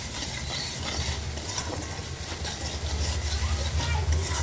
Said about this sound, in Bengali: সরষে লঙ্কা বাটাটা দিয়ে দিলাম, দিয়ে আমি নেড়ে নিলাম